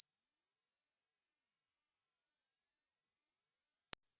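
A steady, very high-pitched sine test tone holds loud and alone for about four seconds, rising slightly in pitch before cutting off abruptly.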